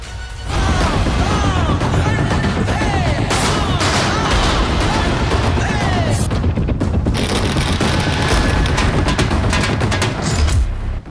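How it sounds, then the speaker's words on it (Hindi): Fireworks go off outside a house during a celebration in Kanpur, a dense, continuous barrage of loud cracks and bangs with whistling rockets lasting over ten seconds. "पीड़िता के घर के बाहर आतिशबाजी।"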